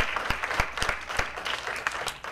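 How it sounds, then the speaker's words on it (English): An audience at an addiction and recovery community event gives a round of applause for local behavioral health providers, a full, fairly close burst of many clapping hands that holds steady throughout. "Let's give them a round of applause."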